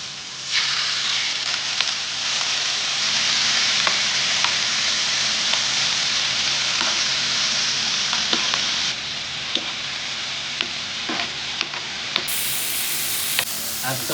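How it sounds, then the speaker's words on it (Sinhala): Chicken fries over low heat in a hot pan with a constant hissing sizzle, broken by sharp clicks and taps of stirring and a brief dip in intensity partway through. "pan එක රත් වෙලා තියෙන්නේ chicken ටික ඇඩ් කරගන්න හදන්නේ"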